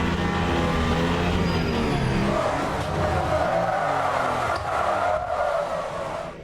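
Peugeot race car in a racing game losing grip as its tires slip over the curbs, a loud engine drone with skidding tire squeal rising partway through, close and continuous.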